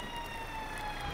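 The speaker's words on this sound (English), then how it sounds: "Look at these ambulances." A continuous video game ambulance siren tone holds steady and fairly loud over a background rumble, with no break in the wail.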